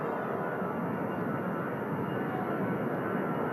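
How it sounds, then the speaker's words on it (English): Aircraft at Manchester Airport, a steady broadband engine roar that holds at a constant level throughout, fairly loud and unbroken, with no talking. "We're just out here watching the planes"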